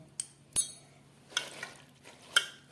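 Chopped taro leaves are mixed by hand with mustard oil, giving a few soft, scattered scrapes and rustles with quiet pauses between them, close up and without talk.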